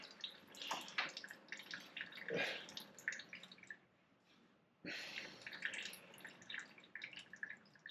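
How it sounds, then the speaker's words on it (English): Fluid from a car hose on a Jeep CJ7 drains into a bucket, a faint, steady trickle with drips. It stops briefly, then the splashing starts again. "The good news is it's draining into the bucket"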